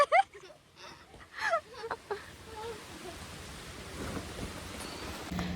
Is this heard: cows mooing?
no